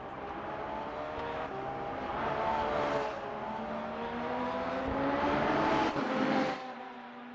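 Engines of a hypercar and other race cars in a Le Mans racing video game, rising and falling as cars rev and pass, with a steady whine throughout and the sound dropping away near the end.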